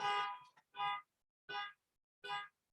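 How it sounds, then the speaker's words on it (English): A car alarm going off at a distance, four short, quiet horn-like honks with pauses between them, heard alone. "there's a car alarm going off."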